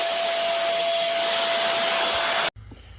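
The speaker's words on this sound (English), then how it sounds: "And then we take our cordless vacuum cleaner and we vacuum everything up." Loud, steady whine of a cordless vacuum cleaner running close by on carpet, then abruptly switched off, leaving a quiet room.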